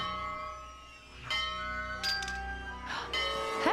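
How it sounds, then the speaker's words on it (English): A bell struck in the Lego Indiana Jones video game, several clanging metallic hits with ringing tones layered over background game music and hum, each strike sharp and fairly close. "we're gonna ring this bell."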